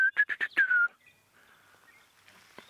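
A wild bird calls during a safari drive, a quick run of about five loud, sharp chirps at the start, followed by quieter distant rustling and faint calls.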